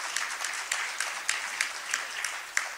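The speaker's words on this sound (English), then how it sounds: "Give him an applause" Applause for an ambassador at the opening of a joint parliamentary assembly session, a thin, moderate clapping texture with a few sharper individual claps standing out, fairly distant in a large hall.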